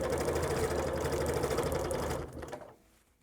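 A sewing machine stitches through quilted fabric, running at a steady, even hum close by, then slowing and stopping near the end.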